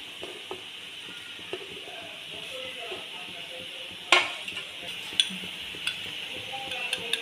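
Chillies and garlic cloves frying in a pan for chicken tacos, with a steady hiss of oil and occasional clinks and scrapes of a utensil against the pan, one sharper knock midway.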